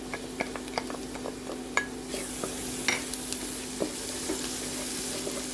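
Garlic hits hot oil in a pan, with a continuous bright sizzle that swells partway through, punctuated by small clicks and taps of a utensil, near and moderately quiet.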